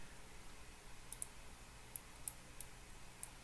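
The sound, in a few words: mouse clicking to pick populate geometry in Grasshopper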